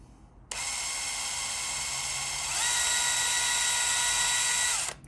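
A power drill drilling into limes whirs loudly and steadily, pitch rising partway through, then stops abruptly after a few seconds.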